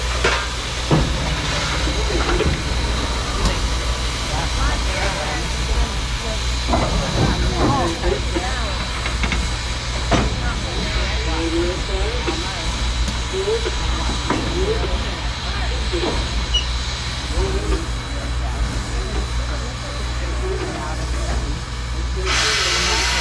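A steam locomotive running at 205 psi with 63-inch driving wheels, loud continuous hissing of escaping steam with a deep rumble underneath and someone talking over it.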